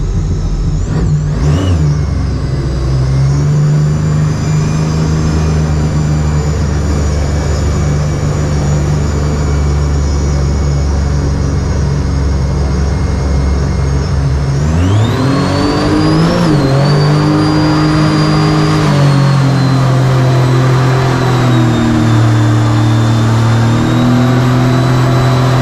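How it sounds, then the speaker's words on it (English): A mini jet boat with a center console idles with a steady, loud engine drone on the water, then its engine revs up sharply and holds at a higher, rougher pitch. "Still got to be nice to this engine."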